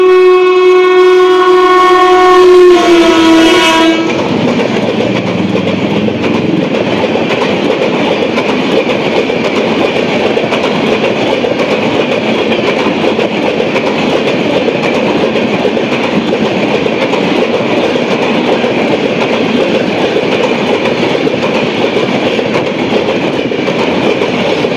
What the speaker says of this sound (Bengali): চলে গেল শিয়ালদা নিউ দিল্লি রাজধানী এক্সপ্রেস